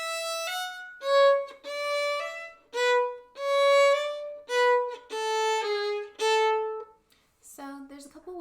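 Solo violin plays the opening four measures of Symphony XI, a sequence of clear sustained bowed notes with short breaks between phrases, close and alone.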